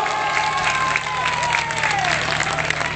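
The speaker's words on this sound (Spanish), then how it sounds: "Ahora damos un fuerte aplauso." A festival crowd at an outdoor village celebration claps on cue, a steady moderate round of applause with some cheering, over a low electrical hum and a sliding tone in the background.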